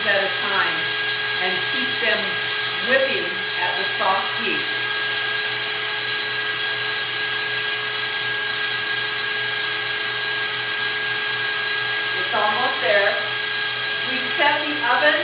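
An electric mixer whips egg whites for a sugar-free angel food cake, giving a steady high-pitched motor whine throughout, with a person talking over it at the start and again near the end.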